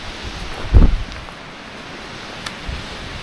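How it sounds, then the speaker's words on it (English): Strong wind blows across a New Hampshire mountain summit, a steady rushing roar with a heavy gust buffeting the microphone near the start and lighter gusts later. "It's pretty windy up here"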